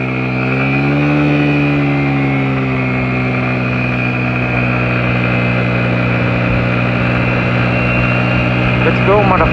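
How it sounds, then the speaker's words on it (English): A 49cc GY6 scooter pulls away from a standstill and accelerates, its engine note rising at first and then holding a loud, steady drone close by for several seconds, with wind rush over the microphone. "do a 0 to 60 from a standstill"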